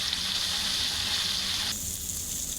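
Cumin, coriander and ginger paste with a little chili sizzling in a pan, a steady close hiss of frying that carries on without a break and eases slightly toward the end.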